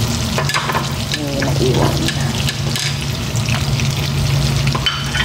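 Garlic sizzles steadily in a hot pan while being stirred for a shrimp and tofu dish, close and continuous frying with scraping clatters and a brief word spoken.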